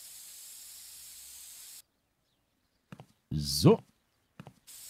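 A can of rose-scented air freshener sprays in Toilet Management Simulator: a short, soft hiss over a faint steady background hum, preceded by a brief click. A single word is spoken just before it.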